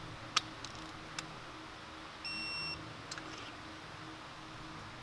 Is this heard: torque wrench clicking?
yes